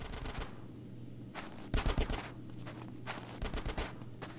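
Bursts of rapid automatic gunfire rattle in Grand Theft Auto: San Andreas, several sharp volleys separated by brief lulls, close and loud with no voices.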